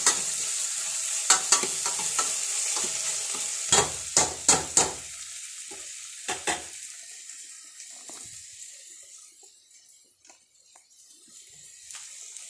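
Tomato and onion sautéing for chicken curry give a continuous sizzle, punctuated by a cluster of sharp utensil knocks and scrapes early on. The sizzle then thins to a softer, fading hiss, with no voices.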